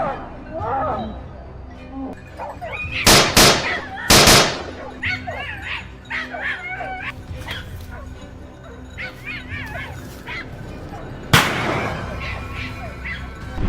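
Sharp gunshots during a wild boar hunt in Siberia, two loud close blasts in quick succession followed by a later single shot, amid dog barking, yelps and whimpering, with voices talking.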